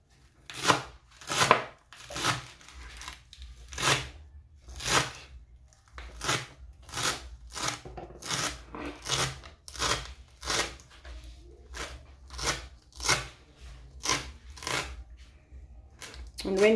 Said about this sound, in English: cut up in small chunks